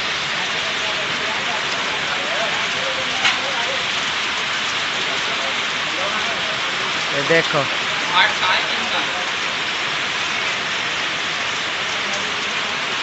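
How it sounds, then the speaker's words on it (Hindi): Steady heavy rain pours down in a dense hiss in Bihar, India, with a brief voice speaking over it midway. "इतनी तेज बारिश पड़ रही है कि ग्राहक भी नहीं आ रहा है दुकान पर।"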